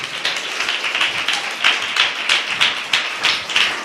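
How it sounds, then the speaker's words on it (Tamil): A church congregation claps in rhythmic unison during a Tamil worship service, about three loud, even claps per second, close and with no talk over it. "நல்ல கைத்தட்டி ஆண்டவருக்கு நன்றி சொல்லுங்க"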